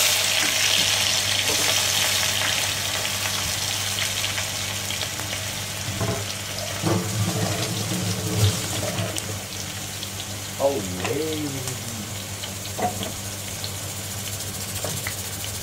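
Chopped onion, garlic and green chillies frying in a hot pan, a steady sizzle with scraping and stirring clatter in the middle, close up, over a low constant hum and no clear talk.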